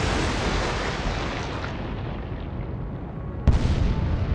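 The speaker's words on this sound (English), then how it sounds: "An explosion erupted on the German cruiser, who missed her target in the smoke." Rumbling battle explosions aboard a German cruiser in a 1939 Atlantic sea battle, a continuous heavy roar that ends in a sharp, loud new blast near the end.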